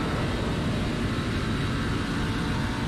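NASCAR truck engine at full race speed on the Michigan oval, heard from inside the cockpit as a loud, steady, dense roar with no breaks.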